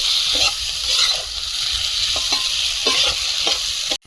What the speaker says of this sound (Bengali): মশলা থেকে তেল ছেড়েছে এবার টমেটোটা দিয়ে দেবো টমেটো দিয়ে আরো কষিয়ে নেব